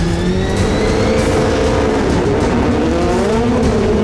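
A rallycross race car blasts off the starting line at America's Rallycross final round, its engine roaring loud and close with rising, shifting pitch throughout.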